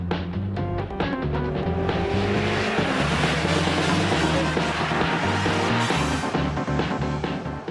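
A Ford GT40 race car running a temporary 400 horsepower engine laps a racetrack, its loud steady engine roar sustained throughout with shifting pitch and faint tire noise, no talking.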